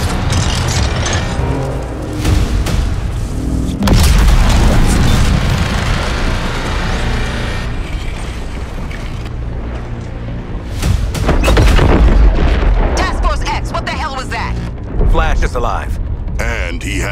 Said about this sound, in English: That artillery is gonna wreak havoc on our front line.